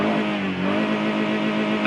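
Toyota Camry (2002–2018, automatic) engine held at high revs near the rev limiter, a steady, loud, continuous roar with no voices.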